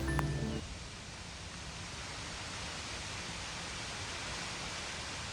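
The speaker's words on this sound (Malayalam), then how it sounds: "കാറ്റ് വരുമ്പോൾ ആൽമരത്തിൻ്റെ സൗണ്ടാണിത്" Steady broadband rustle of wind through banyan tree leaves, continuous and even throughout, after a brief electronic tone at the start.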